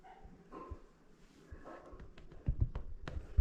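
A pet dog making soft, short yips and whimpery barks, faint and close, with scattered sharper bursts growing louder toward the end.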